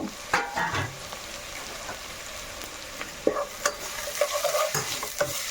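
Sliced onions fry in oil for a homestyle chicken curry, with a quiet sizzle under irregular spatula scrapes and clanks against the pan, and no voices.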